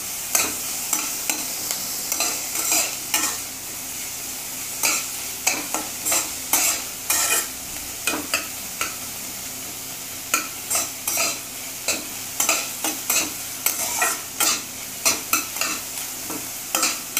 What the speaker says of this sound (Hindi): इसी के साथ ये टमाटर ऐड कर देंगे, इसको ज़्यादा फ्राई नहीं करना है, हल्का हल्का बस सौते करना है